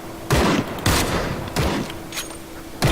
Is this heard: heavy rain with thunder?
no